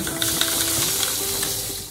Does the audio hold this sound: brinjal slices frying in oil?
yes